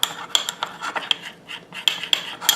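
A spoon mixing a thick honey mustard glaze for salmon in a small bowl. Sharp metallic clinks and scrapes come in an irregular rhythm, close and fairly loud, with no voices.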